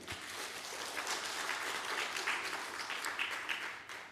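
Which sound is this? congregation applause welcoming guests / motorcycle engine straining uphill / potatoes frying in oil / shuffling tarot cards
congregation applause welcoming guests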